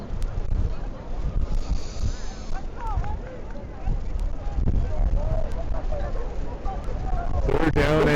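Strong wind buffets the microphone on a blustery Friday evening at a high school football game in Alamosa, a continuous roaring rush with gusts, with faint distant crowd and field noise underneath.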